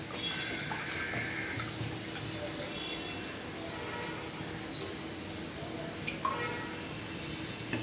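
Water pours from a bowl into a batter of besan and rice flour, a steady soft splashing and trickling that runs the whole time, close by, with faint background noise.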